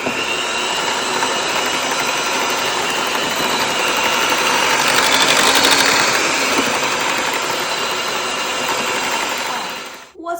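Roasted sweet potatoes whirring in a blender into puree for a pie-bar filling, a steady loud motor drone that runs for about ten seconds before cutting off abruptly at the end.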